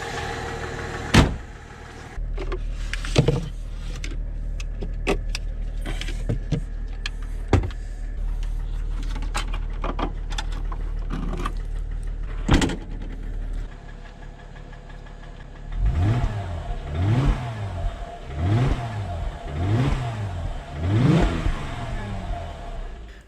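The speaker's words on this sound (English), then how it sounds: "As you can hear, the engine is knocking" Mercedes E350 with a knocking engine, heard first as a few sharp clunks and bumps over a low hum, then starting up and driving off with a rhythmic, pulsing engine note that rises and falls repeatedly.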